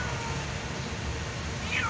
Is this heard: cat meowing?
yes